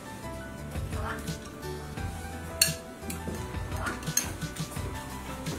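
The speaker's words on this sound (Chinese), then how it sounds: "炒这个腌鱼的时候呢" Pickled fish, a Guizhou Miao dish, is stir-fried in a wok, with a metal spatula scraping and clinking against the pan in irregular strokes and occasional sharper knocks, beneath a person talking.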